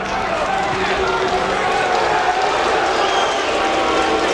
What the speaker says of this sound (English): And you hear more booing from the crowd.